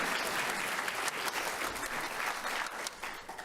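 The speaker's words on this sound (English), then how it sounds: "We can still clap." A crowd at a law school prize-giving ceremony in Sydney breaks into steady, dense applause that holds for a few seconds at moderate loudness with no pauses.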